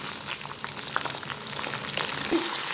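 Curry leaves crackle and sizzle in hot tempering oil for a Telugu brinjal, tomato and broad bean curry, a steady close frying hiss with scattered sharp pops and light stirring.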